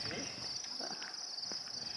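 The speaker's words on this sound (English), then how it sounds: "you can even hear the crickets" Crickets along a tree-lined forest trail around Devil's Tower in Wyoming keep up a steady, high, continuous trill, with faint footsteps and light movement sounds underneath.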